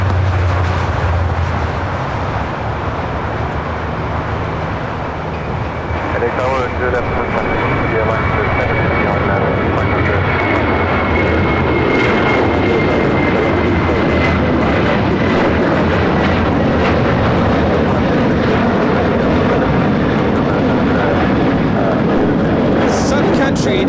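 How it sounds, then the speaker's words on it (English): A Japan Airlines airliner in oneworld livery departs LAX for Tokyo Narita, its engines roaring loud and steady for the whole stretch, with a voice talking over the noise. "Japan Airlines heading back to Tokyo Narita in the One World livery."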